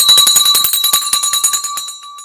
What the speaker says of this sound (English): just a second, it's bell time